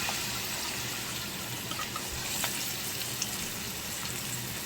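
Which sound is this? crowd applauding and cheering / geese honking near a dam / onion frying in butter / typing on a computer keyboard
onion frying in butter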